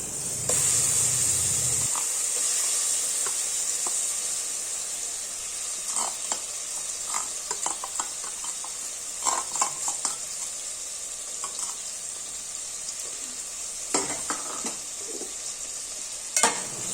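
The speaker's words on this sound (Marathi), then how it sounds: "आता हा सगळा मसाला आपण तेलामध्ये व्यवस्थित मिक्स करून घेऊया" Marinated prawns tossed into a tomato masala frying in hot oil, giving a steady bright sizzle with scraping stirs of a spoon against the pan, a louder burst near the start and again toward the end.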